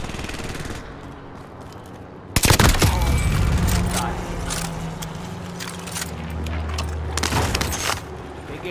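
Bursts of automatic gunfire in Call of Duty Modern Warfare, loud rapid shots that start abruptly and keep cracking under a low engine drone, with players talking over the action.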